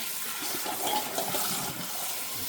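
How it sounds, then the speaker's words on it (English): Hot water drained from a pan of boiled eggs into a sink, a steady rushing gush of pouring water, fairly close and continuous, with no talk. "Now we're going to drain the hot water."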